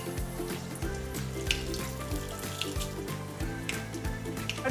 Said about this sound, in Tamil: ஃபஸ்ட்டு கடுகு போட்டு நல்லா வெடிக்கட்டும்.